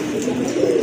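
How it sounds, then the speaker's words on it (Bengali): A fancy pigeon coos close by, a single short, throaty, rolling coo heard clearly with no talking. "এটাও একটা পেয়ার কবুতর"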